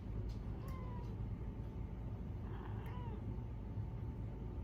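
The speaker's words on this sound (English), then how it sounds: "You may hear sweet meowing." A cat begging for treats lets out a few soft, short meows at a distance, faint against a steady low background hum, with no one talking.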